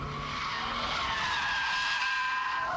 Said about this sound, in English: We're happily power sliding, but too little power, and it straightens up and goes the other way.